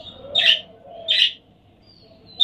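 A mother bird brooding her egg gives three sharp, bright chirps spaced about a second apart, close and clear against a quiet background.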